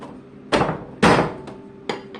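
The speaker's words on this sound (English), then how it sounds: "So I'm going to chop it finer." Celery being chopped finer with a hand chopping tool in a home kitchen, giving four sharp, close thumps at uneven intervals, each hit solid and clear with nothing else around it.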